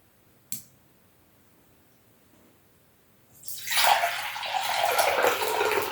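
Water injected from a syringe and stirred while repotting an orchid: a single faint click, a quiet pause, then a rising wash of splashing and swirling water that continues loudly to the end, with no voices.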